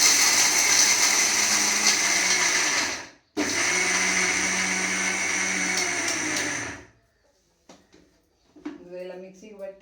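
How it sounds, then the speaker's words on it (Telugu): A kitchen mixer grinder grinding coconut whirs loudly and steadily up close for about seven seconds, stops for a moment partway through, then ends. A person speaks quietly after it stops. "అందుకని మిక్సీకి వేస్తున్నాను అది కొబ్బరి."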